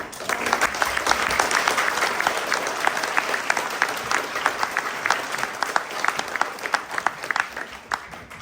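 A school audience applauds a junior production of Matilda the Musical, steady clapping from a crowd sustained throughout, dense and even with sharp individual claps standing out near the end.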